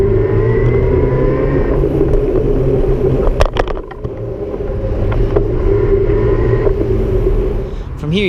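A Cube Reaction Hybrid HPA SL 500 electric mountain bike ridden in turbo mode, with a steady motor whir and tyre rumble over rough ground that swells and eases as pedalling starts and stops, loud and close throughout.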